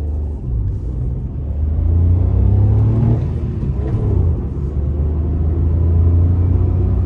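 A Citroën C1's small engine hums low and rises as it accelerates from a start, a steady close rumble building with no talking.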